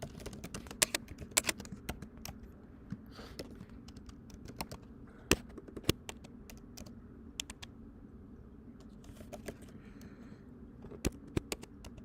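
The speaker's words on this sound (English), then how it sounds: "Give me one moment to type this." Fingers typing on a computer keyboard, quick irregular clicks and taps with brief pauses, close but quiet in a still room.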